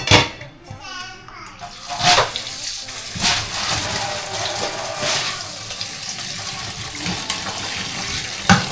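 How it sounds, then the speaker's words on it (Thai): A water tap runs to wash bamboo shoots in a home kitchen, with a steady rush of water interrupted by splashes and clatters, while a child and an adult talk nearby. "ใส่น้ำ ไปน้ำใส่อีก เปิดน้ำล้างอีก"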